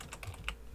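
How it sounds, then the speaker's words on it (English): Someone types on a computer keyboard, several quick, close, quiet key clicks in an uneven burst. "I slammed the keyboard and nothing came out"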